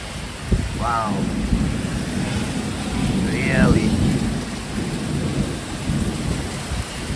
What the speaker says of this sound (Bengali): পুরো কাল বৈশাখী ঝড় যেরকম সেই রকম একটা বৃষ্টি